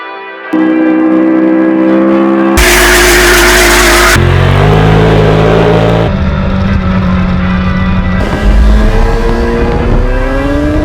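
A 2021 Ford Mustang Mach-E GT Performance Edition accelerating hard, a loud electric whine that shifts pitch in abrupt stages, with tire and road noise and a rising tone near the end, alone without talk.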